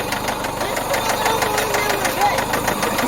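A car engine idles after throttle body work, with a steady, rough mechanical chug and a faint knock running throughout at close range.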